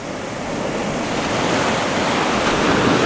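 Ocean waves wash ashore at a bay beach, a broad hissing surf that swells gradually louder over a few seconds, mixed with some wind buffeting the microphone and no talking.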